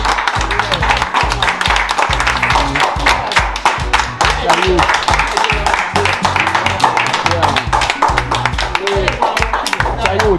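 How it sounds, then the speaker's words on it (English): Applause and clapping from a small group honoring window installers at a home where new windows were delivered, steady dense claps running throughout with talk over them. "We could give Fabulous Brother a round of applause for this window."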